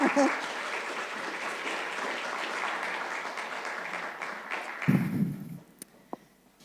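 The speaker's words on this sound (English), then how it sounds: "Yes, an applause for them." Steady applause from a conference audience greeting speakers on stage fills the room, then fades out into a few scattered claps and small noises.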